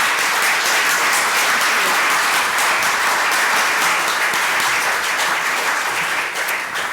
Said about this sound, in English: we all need to applaud them for their commitment